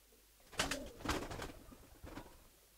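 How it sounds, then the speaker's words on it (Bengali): A Giribaz racing pigeon of the Palla line coos softly and close by, giving three quiet throaty coos in a short run with no talk over them. "দেখেন অসাধারণ সুন্দর কবুতর।"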